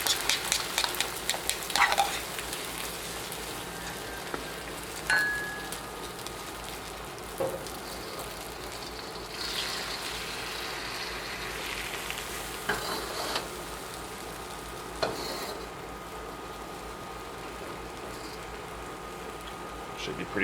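Beaten egg for blue crab fried rice frying in peanut oil over low heat, a steady hissing sizzle like light rain, broken now and then by spatula scrapes and taps against the pan, with speech at times over it.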